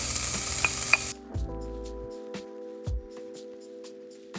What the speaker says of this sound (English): Now I'm going to stir this around a little bit so these onions can turn a little translucent color